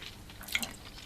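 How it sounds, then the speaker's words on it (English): A few drops of still water fall into a glass of Glendronach 16 year Platinum whisky, one soft splashy drip standing out briefly in a quiet room. "Perhaps you might dilute it a little bit with a few drops of still water"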